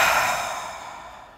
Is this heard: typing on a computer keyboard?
no